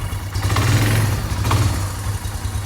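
A four-wheeler ATV quad, bought broken, idles steadily nearby with a low, even engine rumble, moderately quiet and uninterrupted, with no voices over it.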